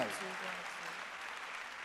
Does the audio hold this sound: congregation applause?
yes